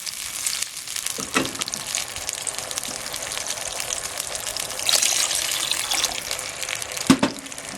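Water poured into a pot of frying chicken for a Japanese-style cream stew, a steady gushing hiss over sizzling with a couple of clunks near the end.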